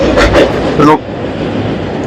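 A passing train rumbles and clatters across the railway bridge at Perumon in Kerala, loud and close, with a voice talking over the first second.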